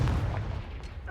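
A Confringo spell blast in Hogwarts Legacy, a heavy low thump that hits at once and decays into a rumbling tail, with a small crackle near the end.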